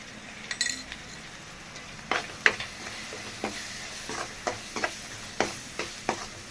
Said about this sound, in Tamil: ஒரு தக்காளி போட்டு இதோடய வதக்கியாச்சு இந்த வெள்ளப்பூடு வெங்காயம் தக்காளி